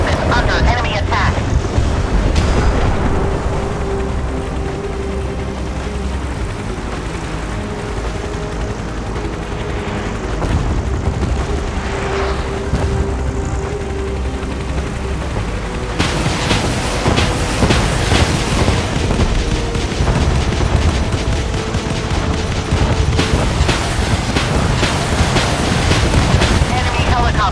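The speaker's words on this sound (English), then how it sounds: "That's a hit. Both engines astern. Armor integrity broken. Our ship is under enemy attack." Naval battle in the Force of Warships video game, with a 2v2 match of missile hits and shell impacts booming against a constant roaring sea-and-engine backdrop, heavy bursts of blasts clustering later on, under spoken game announcements.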